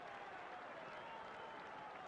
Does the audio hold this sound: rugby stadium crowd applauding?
yes